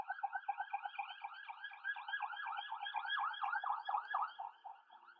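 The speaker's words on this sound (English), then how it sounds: "Oh, it was a police car." A distant police car siren, faint and warbling in fast, repeated rising-and-falling sweeps, swelling slightly then fading out over a few seconds.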